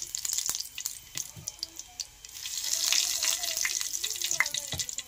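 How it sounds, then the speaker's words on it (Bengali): Dried red chilies and five-spice seeds splutter in hot oil, a faint, crackling sizzle with sharp pops scattered through it, heard close up under a quiet kitchen background. "এরপরে ওই তেলে আমি দিয়ে দেব শুকনো লঙ্কা ফোড়ন, তারপর দেব আমি 5 ফোড়ন,"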